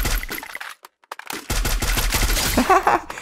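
Rapid bursts of automatic gunfire from a Free Fire battle royale match, loud and close, with a brief lull before dense firing resumes over game effects in a solo-versus-squad fight.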